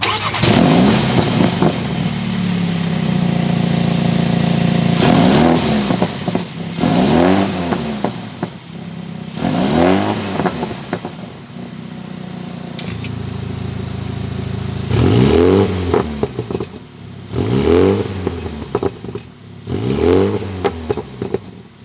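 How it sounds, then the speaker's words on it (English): A 2022 Mini John Cooper Works Clubman engine revs repeatedly while driving, each burst rising and falling through the gears, a loud throaty exhaust roar separated by brief easing-off pauses. "Hear that exhaust note."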